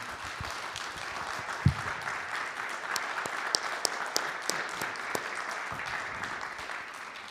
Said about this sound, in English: Let's give a nice applause to this wonderful panel.